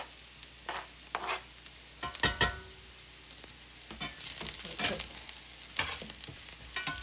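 Garlic sizzles and crackles in a hot pan for a pizza topping, with sharp scraping bursts from stirring now and then, fairly close and steady.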